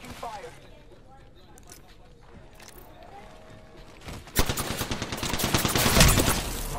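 Rapid bursts of video game gunfire erupt loud and close after a quieter stretch, dense shots rattling on to the end while a player talks over the action.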